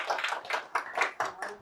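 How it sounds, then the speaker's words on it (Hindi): Audience clapping at a stand-up comedy show, several loud bursts of applause rising and falling in quick succession over a short span, close and lively. "तो एक बार जोरदार ताली हो जाए सभी के लिए"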